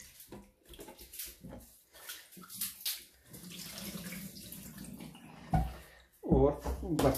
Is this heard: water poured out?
yes